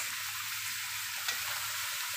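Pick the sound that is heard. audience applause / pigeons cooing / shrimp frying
shrimp frying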